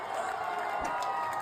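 Fans cheer at Patriots Point, a continuous crowd roar with scattered shouts, heard from some distance at a steady level.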